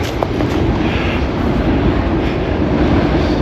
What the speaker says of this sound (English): right above is where the Up Express runs, the GO train